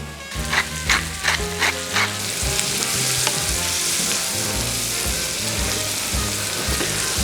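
Lightly salted onion gently softening in a pan for a Christmas Eve mushroom soup gives a steady, close sizzle, with a few stirring knocks at the start, and no speech.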